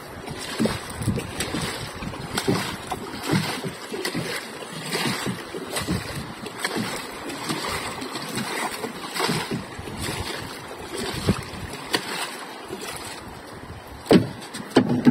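A 7.5 Pro Quip outboard motor on a new boat runs steadily out at sea through the whole stretch, mixed with splashing water and gusts of wind, with a few sharper knocks near the end.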